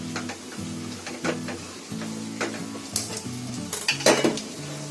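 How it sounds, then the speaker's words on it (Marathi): Misal masala gravy with besan and spices frying in oil in a pan over full heat, a steady sizzle with repeated metallic scrapes and clinks of a spoon stirring against the pan, close by. "आता त्याच्यामध्ये बेसन टाकलंय, मसाले टाकले, ते पण आता चांगले फ्राय व्हायला पाहिजे."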